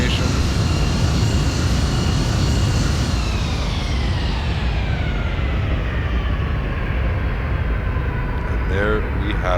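An Embraer E175 airliner in X-Plane 10 deploys its thrust reversers after landing in Toronto, giving a loud continuous engine roar with a slowly falling whine as it spools down.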